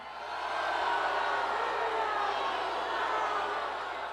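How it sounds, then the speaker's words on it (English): A large convention crowd of delegates booing Bernie Sanders, a steady broad roar of voices that swells and holds for about four seconds, with no clear single speaker. "Sanders booed as he tries to fire up hundreds of his delegates"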